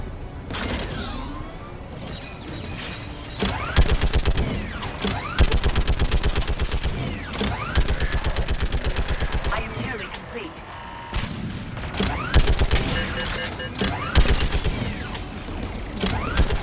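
Mounted gun firing in Mass Effect 3, heard as dense rapid bursts of automatic fire with mechanical clatter and explosions, loud and repeated across the clip, with short pauses between volleys.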